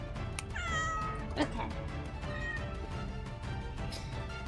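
A pet cat meows several times in a short, close series beneath a woman's affectionate chatter, with a faint ambient hum in the background.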